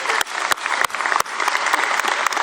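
A high school graduation crowd applauds as an official is invited to the podium, with dense, continuous clapping and a few sharp nearby claps standing out.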